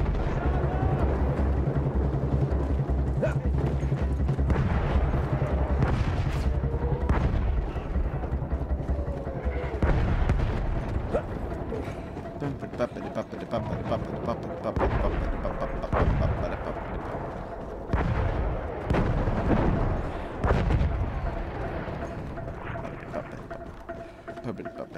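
Rumbling artillery fire in the World War I shooter Battlefield 1, heavy low booms and dirt-spraying blasts rolling loudly across a chaotic battlefield, with wind-like roar throughout and a voice talking over it.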